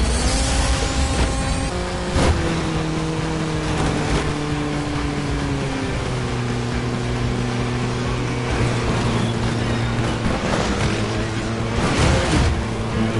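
Racing car engine in the video game FlatOut 4, droning steadily with shifting pitch and a few sharp impacts, loud throughout with no talk.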